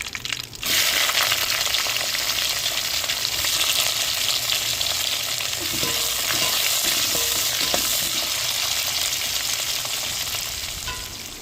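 Sliced onions and curry leaves with dried red chillies fry in hot oil for a dried anchovy dish, a loud steady sizzle with occasional stirring scrapes, close up and unbroken, no speech.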